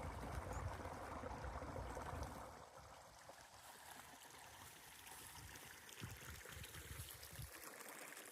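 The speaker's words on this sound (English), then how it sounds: "Look at all this alpine water flowing in here." Alpine stream water flowing steadily along the shore of Guitar Lake on the Pacific Crest Trail, a continuous close trickling rush with no voices.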